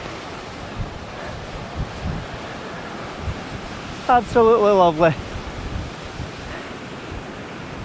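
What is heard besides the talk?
stormy sea waves at Yesnaby Castle sea stack, Orkney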